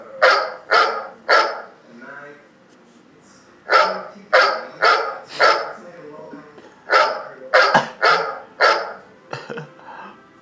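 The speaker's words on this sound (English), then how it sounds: "Be quiet, dog." A dog barks loudly and close by in repeated bursts of two to four sharp barks, separated by brief pauses, with little else heard between them.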